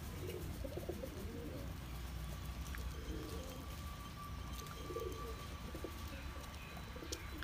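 Domestic pigeons of old lineage and homer breeds coo softly and steadily at a loft, a continuous low murmur with a few faint chirps over a constant background hum, no talking.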